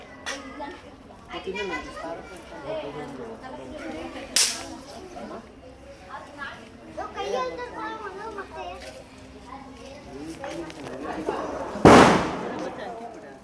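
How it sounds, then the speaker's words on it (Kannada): Two sharp firecracker bangs, one midway and a louder one near the end, cut through lively children's chatter and shouting. "ಪಟಾಕಿ ಹೊಡೆದು ನನಗೆ ವಿಡಿಯೋ ಮಾಡೋ"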